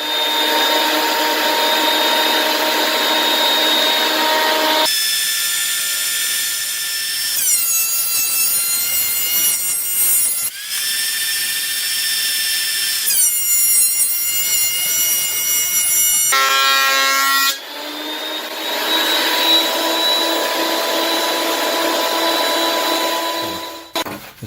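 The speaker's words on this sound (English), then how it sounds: "This is a thickness planer, so we're going to go ahead and take care of that right now." A thickness planer feeds wood through in loud, continuous passes, its high whine broken by several short pauses and restarts as boards go in, with the motor droning between cuts.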